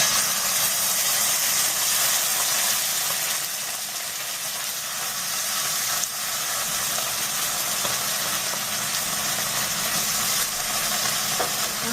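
Onion, ginger, garlic paste and tomato paste frying in oil for a tofu, potato and peas curry, a steady loud sizzle and hiss close up that barely changes throughout, with no talking.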